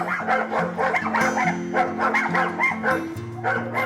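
Dogs barking and yipping steadily and close by, a continuous run of repeated barks with some whimpering mixed in.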